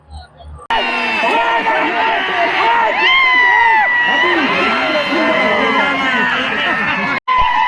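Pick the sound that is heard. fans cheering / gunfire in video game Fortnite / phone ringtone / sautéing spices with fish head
fans cheering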